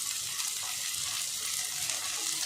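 Sliced rounds of okra frying in a pan with onion gives off a steady, even hiss and sizzle, dense and constant throughout without breaks or talk.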